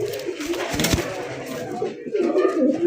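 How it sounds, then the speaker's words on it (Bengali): Male and female pigeons of a feather-footed fancy breed coo close by in a loft, a low throaty rolling call repeated over quiet background with a bit of human voice. "দেখেন নরের ডাক দেখেন"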